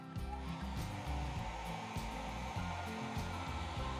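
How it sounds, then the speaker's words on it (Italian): A 1200-watt hair dryer runs on its lowest setting, powered from an EcoFlow River 3 portable power station, giving a steady close whooshing airflow with a low motor hum for the whole stretch and no voices. "metto il mio phon che attenzione attenzione da 1200 watt lo metto al primo livello"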